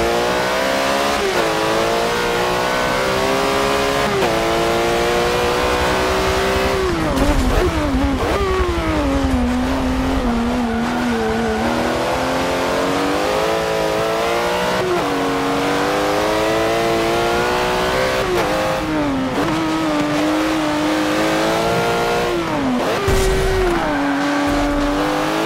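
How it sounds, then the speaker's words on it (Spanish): A Porsche GT4 Clubsport race car on slick tyres laps a wet track among other competition cars in a racing simulator, its engine revving continuously up and down through gear changes, loud and close throughout with no talk. "A ver qué tal nos va con este Porsche GT4 Club Sport con llantas slicks en una pista que está húmeda."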